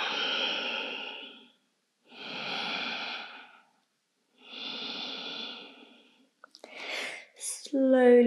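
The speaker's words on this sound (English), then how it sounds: "Just breathe." Three long, slow, audible breaths of a yoga session, each drawn out and separated by brief silences, heard close and clear, followed by a short burst of rustling and a sustained tone at the end.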